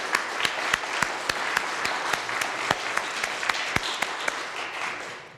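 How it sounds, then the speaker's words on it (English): An audience at a grand opening event applauds, a moderately distant wash of clapping with a few sharp, distinct claps standing out and fading toward the end. "Let's give a big applause for them."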